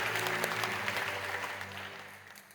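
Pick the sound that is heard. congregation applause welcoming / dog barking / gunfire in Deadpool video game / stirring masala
congregation applause welcoming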